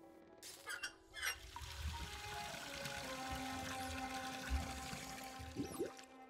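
In the video game Anna's Quest, water pours and trickles through a pipe, a faint steady flow with a few clinks and small splashes.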